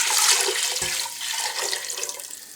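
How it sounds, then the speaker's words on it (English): Pork stock poured into a pan for bacon, lettuce and tomato soup, a loud, steady splashing rush of liquid that eases slightly toward the end, with no talking. "Into a pan, pour some pork stock"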